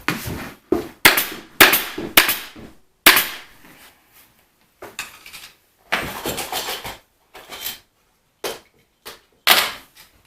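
A staple gun fires repeatedly while a step cornice is assembled, each shot a sharp, loud clack followed by brief rattling handling noise, spaced irregularly with short quiet gaps between bursts.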